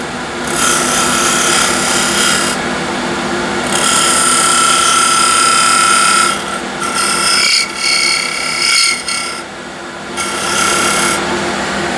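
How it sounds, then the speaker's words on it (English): Wood being turned on a lathe while a small skew chisel cuts a shallow recess, a steady loud whir with rasping scrape, broken by short pauses near the end. "A recess all done with a small skew"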